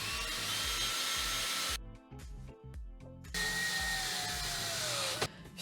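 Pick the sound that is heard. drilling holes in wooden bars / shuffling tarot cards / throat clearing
drilling holes in wooden bars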